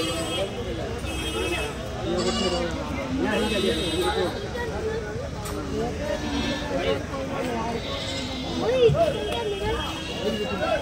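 Goats bleat repeatedly at the busy Kadiri Tuesday goat market, their cries near and far mixed into a constant babble of people talking and haggling.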